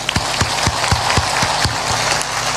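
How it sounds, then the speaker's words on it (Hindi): A crowd at a Hindi storytelling gathering claps with hands raised overhead, beating out steady unison claps about four per second over a dense, hissing wash of scattered applause. "अरे सबने देखे, ऊपर ऊपर ताली बजा दो।"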